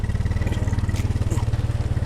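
A motorcycle engine putters steadily and close on a steep, foggy village descent, its rhythmic low thumping running throughout with no talk.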